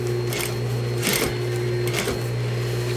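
A sewing machine runs steadily while gathering slipcover fabric for a dining chair, its loud motor hum continuous with a rapid needle clatter, close up and with no talking.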